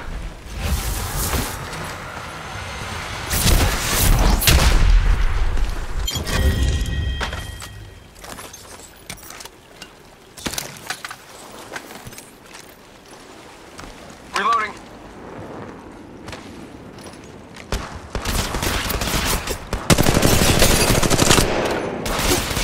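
Rapid gunfire bursts in the mobile battle royale game Apex Legends Mobile, played on an iPad, loud automatic firing in dense stretches with quieter gaps and in-game voice lines between.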